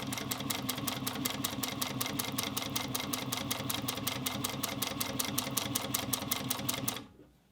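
A Juki sewing machine runs steadily at speed, stitching a leather bucket bag in a fast, even chatter that stops abruptly at the end.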